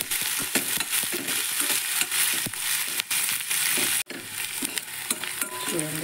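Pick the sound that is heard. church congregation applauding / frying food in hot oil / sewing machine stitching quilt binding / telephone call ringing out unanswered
frying food in hot oil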